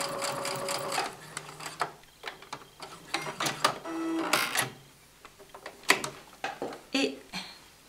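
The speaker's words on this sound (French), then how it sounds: "en réglant votre machine pour la marge de couture par exemple à 7 mm, vous allez coudre" A sewing machine stitches a Log Cabin quilt seam at a 7 mm seam allowance, running in short stop-and-start bursts with small clicks and handling noises between them, close by, with no talk.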